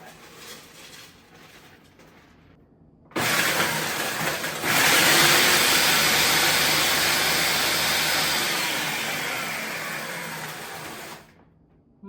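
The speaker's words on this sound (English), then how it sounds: "So I'm going to take the easy way out and use a food processor." Food processor grinding crisp cookies into fine crumbs for a pumpkin chiffon pie crust, a loud harsh motor roar with rattling bits starting suddenly, running about eight seconds and tapering off.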